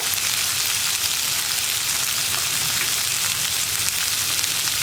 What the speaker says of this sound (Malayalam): ഇനി ഇതൊന്ന് ചെറുതായിട്ട് വഴറ്റിയെടുക്കുക കേട്ടോ